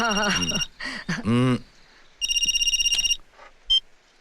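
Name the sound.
telephone ringing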